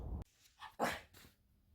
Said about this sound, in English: I'm gonna show a little clip of another dog that I just ran into